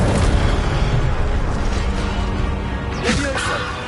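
An Incendio fire spell cast in the Hogwarts Legacy video game: a loud burst of fiery roar and booming impact over dense combat noise, with a voice present, ending in a sharp whooshing flare near the close.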